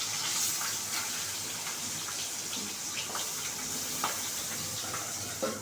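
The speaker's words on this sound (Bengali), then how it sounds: "হাতটা ধুয়ে নিচ্ছি" Tap water runs steadily and fairly quietly as hands are washed beneath it in a kitchen during fish curry cooking, with faint splashes and small clinks over the continuous flow.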